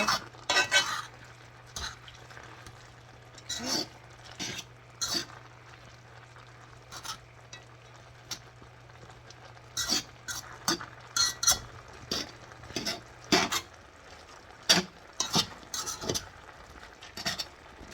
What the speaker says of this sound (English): I'm mixing with the fork, not the spoon